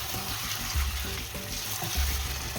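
Chicken with mint (pudina) being sautéed in a pan for a light curry: a steady, close sizzle of hot oil with soft scraping stirs and occasional bubbling, with no talk.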